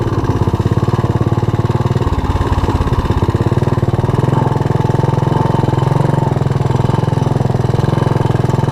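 Honda ATC185S three-wheeler engine running loud and close with an automatic clutch, a rapid, even mechanical chug throughout, its rhythm briefly roughening and shifting as the gear is pushed down, then settling to a steady run.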